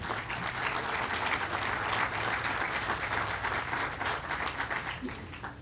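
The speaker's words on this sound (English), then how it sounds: "Can we give them a big round of applause?" Sustained outdoor applause from a crowd at the Westphalia Town Center groundbreaking, a steady patter of many hands at moderate distance with a few faint voices underneath.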